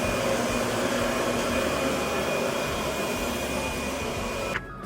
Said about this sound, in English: so it's time to vacuum